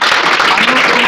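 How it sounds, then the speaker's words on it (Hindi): Students applaud a class topper in a coaching classroom, a short, loud burst of dense clapping that fills the room for about a second. "चलिए इनके लिए तालियां लगाइएगा।"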